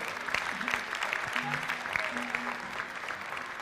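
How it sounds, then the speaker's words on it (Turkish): Studio audience applause on a Turkish TV show stage, a steady wash of clapping that holds throughout, with a faint voice over it. "Ee, ben bir kez daha alkışlarınızla sevgili Mine Koşan'ı davet etmek istiyorum sahneye."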